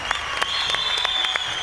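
An audience at a televised fashion competition elimination night claps, a dense burst of applause with sharp individual claps standing out, close and loud throughout.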